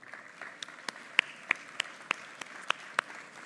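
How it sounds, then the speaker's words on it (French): A conference audience applauds, with a dense, steady patter of many hands and several sharper individual claps standing out at regular intervals, moderately loud and without talk. "j'ai le plaisir d'accueillir sur scène sous vos applaudissements Vincent Lecamus"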